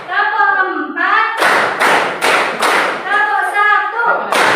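A school class performs a rhythmic clapping pattern, counting beats aloud: a voice speaks between bursts of several sharp, loud group claps in quick succession.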